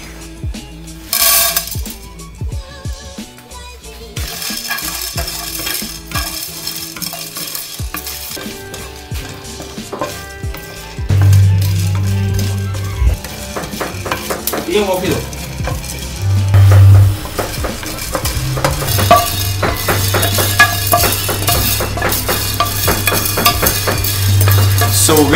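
Farm fresh coffee beans roasting in a pan give a close, rattling scrape and stir with a soft sizzle, interrupted by pauses and clinks, while a low steady hum runs through the second half.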